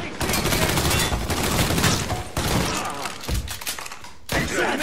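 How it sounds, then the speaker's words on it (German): Dense gunfire in the video game Mafia III crackles in sustained volleys with a few abrupt pauses and heavy impacts, loud and close throughout. "Ich schieße!"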